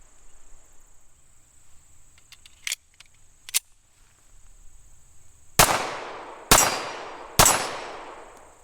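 A Tisas 1911A1 pistol fires Hornady 230 grain XTP hollow-point rounds, producing three loud, sharp shots about a second apart near the end, each with a fading tail. Quiet clicks and handling noise come earlier, and insects drone steadily in the background.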